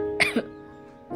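A woman with a severe cough gives two short, close coughs in quick succession, followed by a brief breath in a quiet indoor room.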